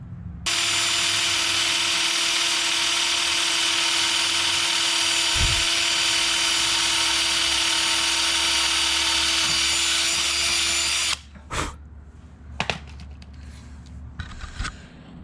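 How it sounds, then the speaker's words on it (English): A power drill bores pilot holes for screws in a DIY wooden skateboard grind box, whirring loud and steady for about ten seconds before stopping, then a few short bumps and handling knocks. "So I'm gonna have to drill and then drill again."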